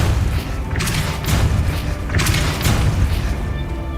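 A Depulso spell cast in the Hogwarts Legacy video game gives two forceful whooshing blasts with deep booming thuds over steady low game rumble, loud and close.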